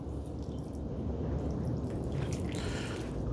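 Thin cooling water trickles and drips steadily from the telltale of a running Nissan 15 hp outboard motor, a soft continuous splashing with engine noise underneath.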